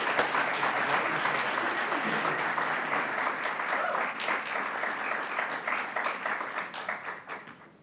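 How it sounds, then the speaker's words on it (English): A school board meeting audience gives a round of applause in an indoor room, steady dense clapping sustained for about eight seconds and thinning slightly toward the end, with some voices mixed in. "another round of applause for Brian Munoz."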